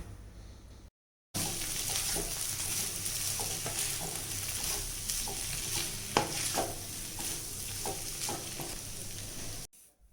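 Poha being stirred in a pan, a steady close sizzle with spatula scrapes and clinks coming in after a brief silent gap at the start, ending in a short drop-out.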